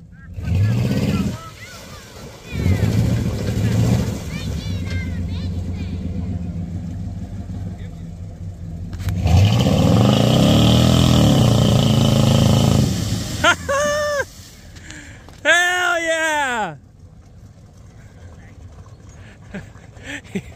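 An off-road vehicle's engine revs hard as it ploughs through deep Florida mud, a loud surging roar that peaks midway, with excited voices shouting over it and a dog barking near the end.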